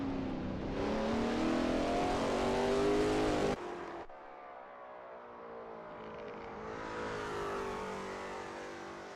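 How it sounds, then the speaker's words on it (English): A Lola T70 MkII Spyder race car at 1967 Kyalami in a racing game roars loud and close as it revs up, cuts off sharply on a gear change, then climbs again and fades as it pulls away. "That ASRL T70 MkII Spyder looks good driving through the S's."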